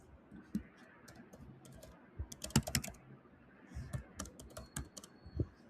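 Quiet, close typing on a computer keyboard, irregular clusters of key clicks with brief pauses between bursts.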